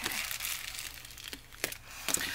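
A paper bag crinkles softly as it is folded and pressed flat with a bone folder, giving faint rustles and a few sharper creases.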